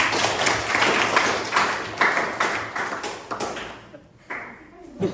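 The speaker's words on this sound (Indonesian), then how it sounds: "Tepuk tangan untuk Nanda" Classroom applause for a student after a correct answer, a burst of clapping from a group of pupils that thins out and fades toward the end.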